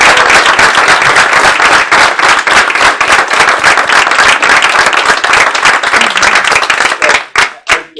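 Loud, sustained applause from a seated audience at a borough ceremony honoring a marching band, dense clapping filling the room for several seconds before thinning out into a few last scattered claps.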